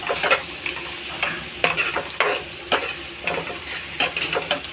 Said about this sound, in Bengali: এবার লবণ আর হলুদটাকে একটু ভালোভাবে মিশিয়ে নেব।